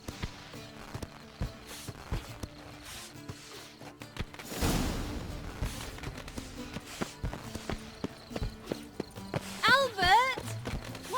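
Horse hooves clip-clop at a steady walking rhythm in The Witcher 3: Wild Hunt, sharp repeated knocks close by, with a brief voice near the end.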